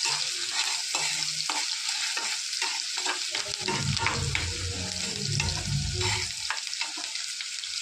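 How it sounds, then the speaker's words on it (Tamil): Onions sautéing in hot oil in a pan for a potato fry give a steady close sizzle, with repeated scraping stir strokes and a fuller, louder frying surge in the middle, and no talking. "வெங்காயம் போட்டுக்கலாம். இது கொஞ்சம் லைட்டாக வதங்கினாலே போதும்."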